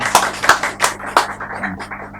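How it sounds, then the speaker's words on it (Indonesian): A few people in a small podcast studio give a short burst of clapping for a guest from a village near Ungaran Barat, with a handful of sharp, separate claps that thin out and fade within about two seconds. "Tepuk tangan Pak Mustaqim"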